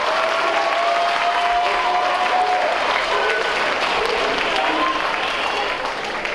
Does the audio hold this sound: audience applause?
yes